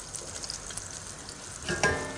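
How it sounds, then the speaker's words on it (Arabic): Butter melting in a saucepan for cheese sauce makes a low, even sizzle that swells into a louder crackling burst near the end, heard close with no talking. "اتاكد عندي الزبده دابت"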